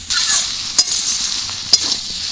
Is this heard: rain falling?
no